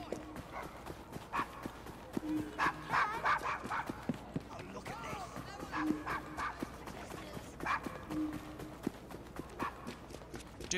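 A dog barks and yips in short bursts in Assassin's Creed Syndicate, mixed with the clip-clop of horse hooves on a street and faint background game sounds.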